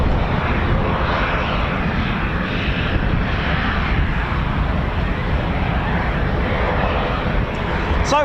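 A C-146 Wolfhound aircraft departs, its engine roar loud, steady and broadband for the whole stretch, close by and without pause, fading only at the very end.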